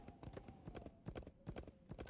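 Horse hooves clip-clop in a steady trotting rhythm in the Wild West Dynasty video game, close and fairly quiet, with no talking.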